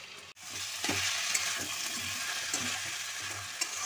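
Potatoes and soaked Gobindobhog rice are tipped into a hot frying pan for a fish-head dish; oil sizzles steadily, with a sharp clatter at the start and a few scraping stirs as the pieces settle.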